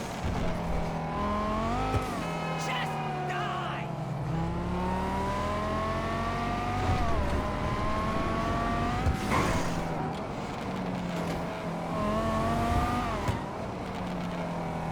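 A Buffalo EVX car engine in GTA 5 Online hums and revs steadily, rising and falling in pitch with small crackling pops between gear changes, loud and close.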